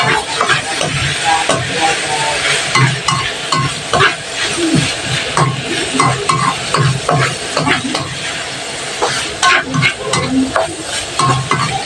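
Bitter gourd (ampalaya) sautéed with a little soy sauce gets stirred in a hot pan, with a steady loud sizzle and repeated scraping, clacking utensil strokes throughout.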